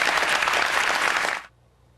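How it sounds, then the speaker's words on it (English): Sustained applause at a televised event on Susan Rice and Benghazi, led by Hillary Clinton, fairly loud and steady for over a second before cutting off sharply to near silence. "there you saw Hillary Clinton leading the applause"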